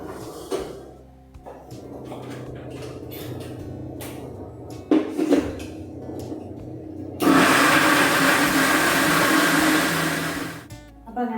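A kitchen mixer grinder blends salted cooked food in a loud, steady whir lasting a few seconds, preceded by clattering, knocking and handling noises nearby.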